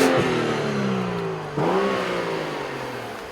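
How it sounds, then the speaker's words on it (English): A 2014 BMW 435i xDrive with its straight-six engine revs up, the note rising smoothly, dipping briefly at a gear change, then climbing again, loud and close without any talk. "That's a good sounding 6-cylinder."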